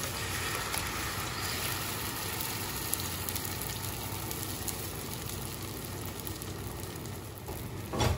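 Vegetable omelette egg mixture poured into a hot pan with olive oil, giving a continuous broad sizzle that holds steady and close, with a brief knock near the end.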